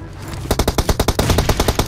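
Rapid automatic gunfire in PUBG Mobile, a loud burst of about a dozen evenly spaced shots after a short pause, close and clear with no talk over it.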